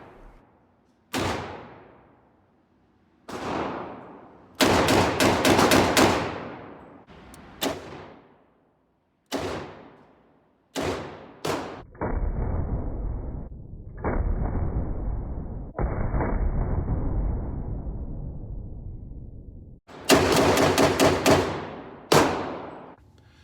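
A Colt Trooper Mark III revolver firing .38 Special rounds, each shot a sharp loud crack with a ringing tail, spaced irregularly with some near-paired shots and stretches of steady background rumble between them.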